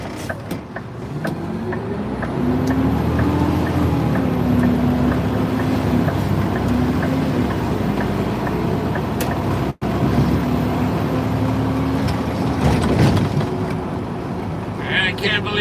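A truck named Priscilla, nearly three years old, drives along the road with a loud, continuous engine and road rumble. A brief engine note rises and falls, and a voice speaks at times over the noise.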